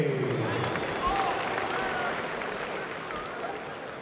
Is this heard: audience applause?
yes